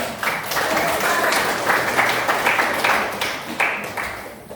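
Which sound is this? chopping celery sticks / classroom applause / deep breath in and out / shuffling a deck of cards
classroom applause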